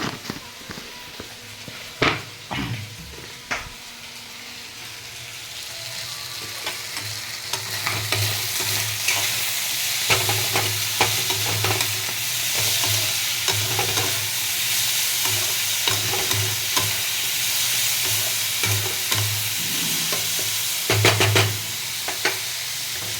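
Fish head and spinach with salt being stirred in a pan, a dense sizzle that grows louder, punctuated by repeated spatula scrapes and knocks against the pan, close up with no talking.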